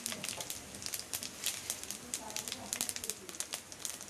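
Cumin seeds crackle and sizzle in hot oil in a pan while a Chettinad brinjal kulambu is cooked, a steady close frying hiss with dense sharp pops throughout.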